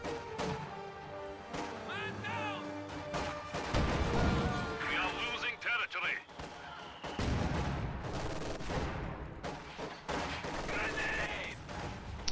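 Gunfire, explosions and a rifle grenade blast in a real-time strategy video game battle between grenadiers and a Soviet conscript squad, with sharp rattling shots and heavier booms across the clip and a commentator talking over them.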